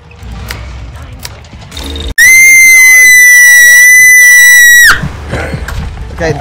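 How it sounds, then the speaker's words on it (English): A loud, dramatic scream from an Outlast Trials game session, a sustained piercing shriek of nearly three seconds that cuts in abruptly and ends sharply, set between quieter stretches of game noise. "Okay, that was a kind of a dramatic scream."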